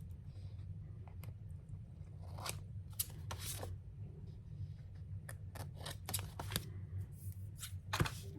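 Scissors snipping Christmas paper ephemera for a junk journal folder, quiet irregular cuts and paper rustling up close, several short snips clustered toward the end, no voices.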